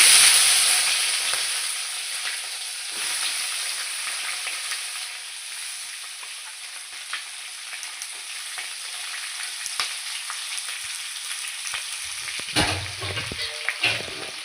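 Drained ivy gourd frying in oil with curry leaves, a bright continuous sizzle with occasional scrapes and knocks as it is stirred in the pan.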